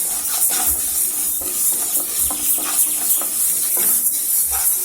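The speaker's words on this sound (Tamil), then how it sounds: "இந்த பாசிப்பருப்பை வானிலையில் போட்டு லைட்டாக வறுத்துக்கோங்க" Split moong dal dry-roasting in a pan as it is stirred, giving soft scattered scraping clicks over a steady background hiss, with no voices.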